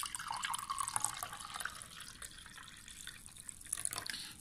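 Water trickles and splashes softly into a drinking glass as it fills, a faint close pouring sound with no talking.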